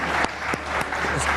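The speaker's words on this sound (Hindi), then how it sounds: "ताली होनी चाहिए इनके लिए।" Studio audience applause on a cricket talk show, a brief, steady burst of clapping with a few sharper individual claps standing out.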